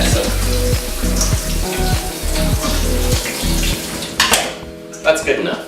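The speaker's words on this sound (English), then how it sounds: "You can throw them in a colander and just give them a rinse off." Peeled potatoes rinsed in a colander for shepherd's pie, with steady running water and splashing against the potatoes and metal, a few clattering knocks near the end.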